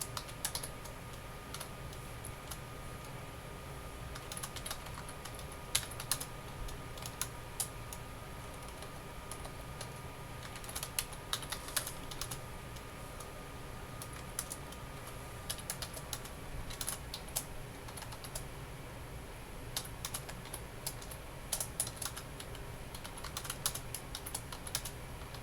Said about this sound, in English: let me finish off typing this one